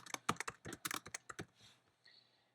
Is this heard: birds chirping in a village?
no